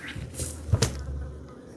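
Honeybees buzz close by around an open hive in a low, wavering drone, with a couple of soft knocks partway through.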